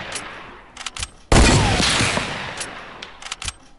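Gunfire in Fortnite, with a few sharp isolated shots, then a loud heavy burst that fades into a decaying roar, followed by more scattered single shots.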